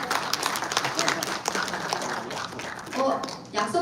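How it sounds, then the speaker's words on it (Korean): Audience applause at a Korean political book-talk event as a guest is welcomed, a crowd clapping steadily with a voice speaking over it toward the end, moderately loud and fairly close. "박수 부탁드립니다."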